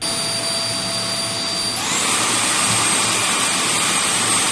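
A Xiaomi JIMMY JV53 cordless vacuum cleaner runs with a loud, steady whine and rushing airflow; about two seconds in it shifts up to its faster second speed, and the roar grows louder and brighter before holding steady.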